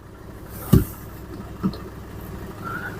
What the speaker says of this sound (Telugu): ఇంజన్ సౌండ్ అనేది మీకు తెలుస్తూ ఉంటుంది